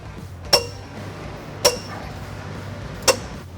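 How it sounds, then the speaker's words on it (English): A socket and wrench working on trailer hitch bolts under a Hyundai Palisade, with three sharp metallic clinks spaced about a second apart over a quiet low background, close and distinct with no talking. "Let's begin with our 3/8 screws into the center section. You will need a 15mm socket"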